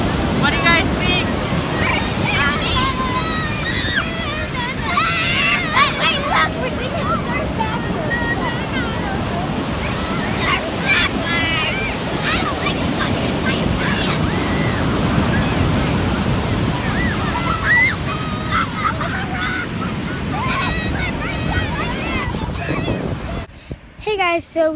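Ocean surf at a beach rolls in a continuous, wind-buffeted wash of waves, with voices talking and calling faintly in the background throughout.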